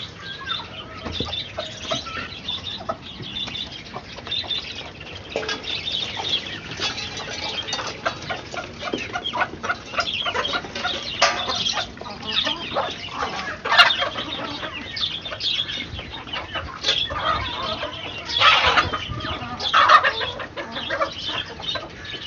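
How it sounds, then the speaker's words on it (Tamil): Native country chickens on a Chennai rooftop cluck and chatter constantly while feeding together on greens, many birds close by with occasional wing flaps and no talking. "எல்லா கோழி சேர்ந்து சாப்பிட்றது"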